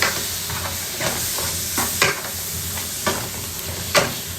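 Yogurt being stirred into chicken curry masala as it fries in a pan, a continuous sizzle with soft scraping strokes about once a second.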